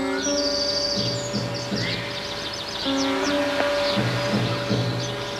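A lyrebird calls outdoors in the bush, a loud run of varied, mimicking chirps, whistles and trills layered over sustained tonal notes, with no voices.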